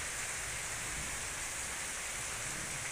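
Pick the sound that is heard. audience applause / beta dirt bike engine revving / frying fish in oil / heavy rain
heavy rain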